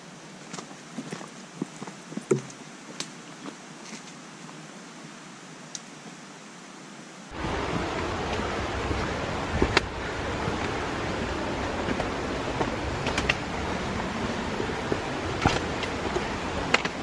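A river flows near a waterfall on a Costa Rican hike, a steady broadband rush that begins partway through after quieter footsteps and rustling, then continues loud and close.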